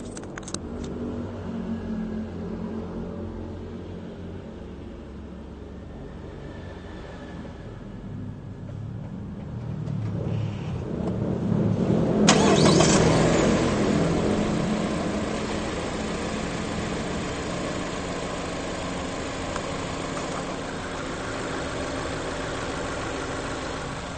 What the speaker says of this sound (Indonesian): Sekarang kita cobain suara mesinnya.